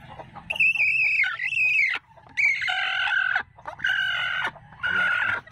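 Farmyard chickens cluck while a rooster crows in several loud, drawn-out calls close by, with brief pauses between bursts and no talking.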